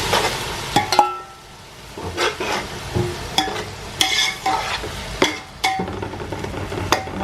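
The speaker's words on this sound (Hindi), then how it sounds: "टमाटर 5 मिनट भून के फिर चिकन डालेंगे।" Tomatoes and garlic cook in oil for chicken pulao, with a soft sizzle broken by repeated stirring scrapes and spoon knocks against the pot in an uneven rhythm; no talking.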